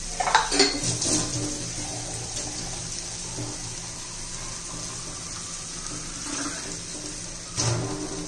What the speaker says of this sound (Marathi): त्यात आपण आता पाणी घालूया.